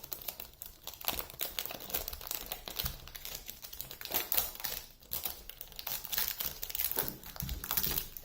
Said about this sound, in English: let me get this out of the plastic.